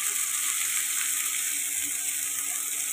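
Chow mein noodles frying in a pan with onions give a steady, bright sizzle that holds at an even level throughout, close by and with no voices.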